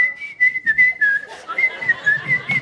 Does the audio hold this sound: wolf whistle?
yes